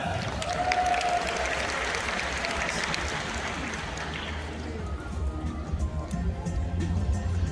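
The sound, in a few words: audience applause for dolphins Salvador and Coquina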